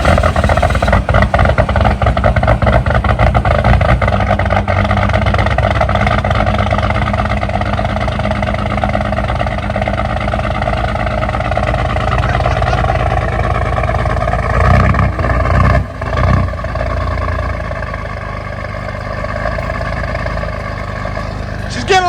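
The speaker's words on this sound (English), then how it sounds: "Cold start." A truck engine cold starts and runs loud and close with a steady rumbling idle, wavering briefly partway through before settling back.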